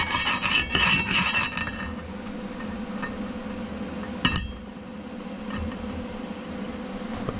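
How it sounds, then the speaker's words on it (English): A grinder works metal on the front axle of a Harbor Freight 1.5 ton jack, a harsh rasping burst up front, then a quieter scraping hum with a sharp metallic clink midway, close by. "Have to grind that one off too."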